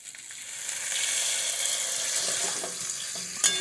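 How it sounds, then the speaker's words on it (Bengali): A sizzling pan of sajne data (drumsticks) frying in mustard-poppy paste hisses steadily as a little water is poured in, a continuous close broadband sizzle with a few faint clicks near the end, no voices. "এবার দিয়ে দেবো অল্প পরিমাণে জল"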